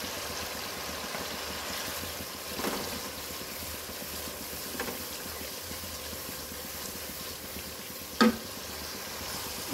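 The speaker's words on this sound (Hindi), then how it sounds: "इस पॉइंट पे हम अपना प्याज शामिल कर देंगे ताकि मसाला अच्छा से तैयार हो जाए।" Onions and masala fry for a white chickpea curry with a steady, even sizzle, broken by a couple of soft scrapes and one sharp knock near the end.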